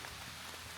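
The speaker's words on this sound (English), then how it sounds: "I essentially woken up to a downpour" Heavy rain pours onto a tarp pitched overhead at a night camp, a faint, steady patter with no break or other sound.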